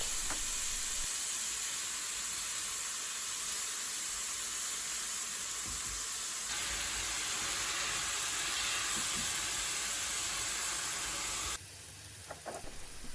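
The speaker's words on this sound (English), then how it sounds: "add the onion and pepper and cook on high for around 5 minutes until the onions become golden" Onion and pepper fry on high heat in a pan for a restaurant-style chicken tikka bhuna, a loud, continuous hissing sizzle that holds steady and then drops suddenly near the end, heard alone without voices.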